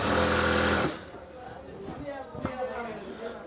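A sewing machine stitches elastic into the waistband of a salwar in a loud, close burst of rapid needle strokes that lasts under a second. The machine then stops and a person talks over faint handling noise.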